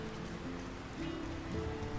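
Steady rain patters down across a town in a fantasy video game, a dense, even hiss of drops on surfaces heard close and continuous, with faint tonal game ambience humming beneath.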